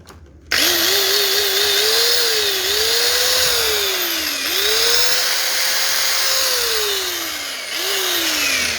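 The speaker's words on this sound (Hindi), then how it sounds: "ग्राइंडर लें जी, लेज़र लाइट वाला ग्राइंडर है" An angle grinder fitted with a laser level light runs loud and close, its motor whine dipping and rising under changing load, steady with no talk over it.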